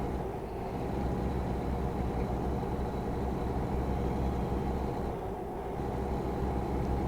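Steady engine drone of a truck cruising along in American Truck Simulator on cruise control with an automatic gearbox, a continuous low rumble at even loudness with no talking.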